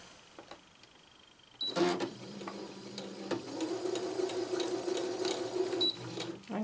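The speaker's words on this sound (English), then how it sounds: "I'm going to place that under my foot of the sewing machine. I'm going to set my machine to quite a wide zigzag this time." A sewing machine runs a wide zigzag stitch over wire, its steady mechanical whirr starting after a short quiet pause and continuing close up to the end.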